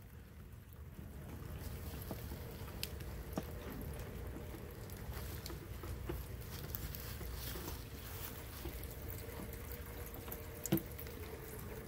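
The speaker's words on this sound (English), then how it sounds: "It's raining." Steady soft patter of rain falling by the edge of a house, a constant wash of falling water with occasional drips and faint knocks, quiet and even throughout.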